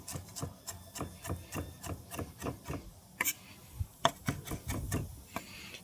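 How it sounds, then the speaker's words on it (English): A knife rough-chops cilantro leaves and fine stems on a board for a charred scallion salsa verde, roughly a dozen quick, evenly spaced taps close by, alone without talk. "let me give them a quick rough chop first"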